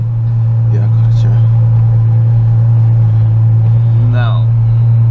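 A Ferrari 812 Superfast idles loudly during its warm-up phase, a deep, steady engine drone heard from inside the cabin, with brief voices over it.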